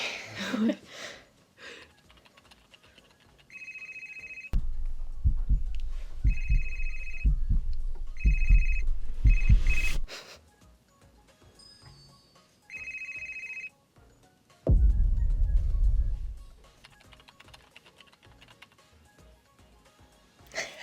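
A phone ringtone sounds in repeated short electronic bursts, a steady two-tone pattern clearly heard over low thumping background noise and occasional indistinct sounds.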